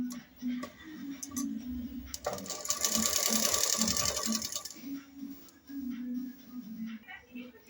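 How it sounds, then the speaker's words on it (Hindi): Sewing machine stitching a folded fabric strip on a baby dress, its rapid mechanical whir running loud and steady through the middle of the clip, with someone talking before and after it. "ये पट्टी हल्का सा मोड़ते हुए हम इस पट्टी को ऊपर स्टिच करेंगे, इस तरह से।"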